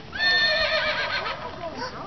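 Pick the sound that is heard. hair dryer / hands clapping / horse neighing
horse neighing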